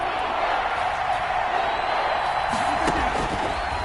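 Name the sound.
crowd cheering in an American football video game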